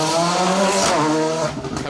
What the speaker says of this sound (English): And William Hill in the Rally 3 Fiesta, the Hills Ford car.